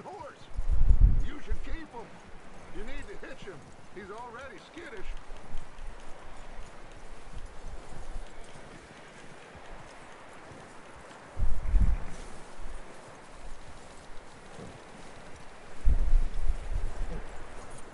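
Horse hooves clop at an easy riding pace in Red Dead Redemption II, rising in louder bursts over quiet ambience, with occasional voices in the background.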